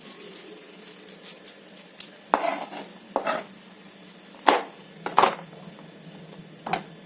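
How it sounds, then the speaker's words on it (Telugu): A knife chops green chillies on a cutting board in a home kitchen for a bread omelette: soft, irregular taps and knocks, some in quick pairs, fairly faint and close. "పచ్చిమిర్చి అయితే ఇలా కట్ చేసుకోండి ఫ్రెండ్స్"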